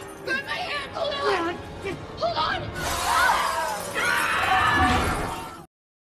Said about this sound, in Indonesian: kaca bangunan itu pecah, orang-orang terjun bebas dan meninggal seketika